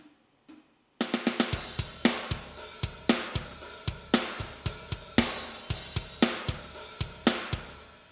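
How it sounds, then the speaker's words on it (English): Programmed drum track from Slate Drums SSD5 software, punchy kicks, snares and cymbal crashes in a steady rock groove, clean and upfront, after a second of faint sound at the start. "I've pre-programmed a little drum track using SSD5 by Slate Drums"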